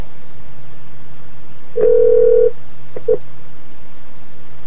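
A telephone call being placed, with a single steady ring tone lasting under a second followed by a much shorter second burst, loud and clear against a quiet background hiss.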